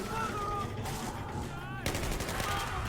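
Gunfire in the video game Battlefield 4, inside a damaged ship: rapid, dense bursts of automatic shots, fairly quiet and continuous, with a sharper burst near the end.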